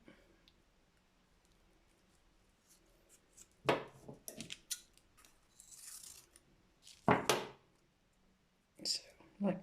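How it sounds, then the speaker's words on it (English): Scissors cut through a paper template for cement casting, giving two main bursts of crisp snipping and rustling with smaller clicks between them, close and fairly quiet. "I need to get the scissors and cut along there"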